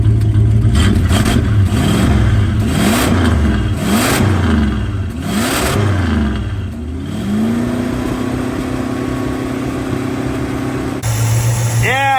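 A 1965 Plymouth Barracuda's 273 V8 is revved up and down in repeated swells, then settles into a steady idle before a sharp change near the end; loud and close, with people talking over it.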